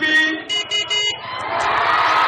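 Horns honk in short stacked blasts at an outdoor gathering in Abomey-Calavi, Benin, three or four loud toots followed by a crowd's rising noise.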